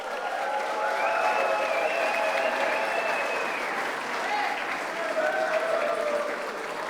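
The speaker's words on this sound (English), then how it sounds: "So please give a big round of applause for Peter Lane" Audience at an anniversary gala for the broadcaster C31 applauding steadily, a dense even wash of clapping that fills the room throughout.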